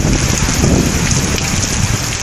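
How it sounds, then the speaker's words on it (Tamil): Heavy rain pours steadily in a Tamil Nadu village area, a dense, continuous loud hiss of drops hitting surfaces with no pauses and no voices. "ஒரு மணி நேரத்திற்கு மேல் கனமழை பெய்தது"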